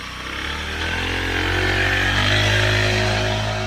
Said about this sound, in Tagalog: First attempt na testing niya sa kanyang motor.